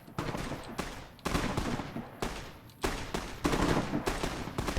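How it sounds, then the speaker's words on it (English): Gunfire in Fallout: New Vegas, a dense fusillade of overlapping shots and bursts that comes in repeated waves and stays loud and continuous, with no talk over it. "Kids, when you hear gunfire, sprint directly towards it."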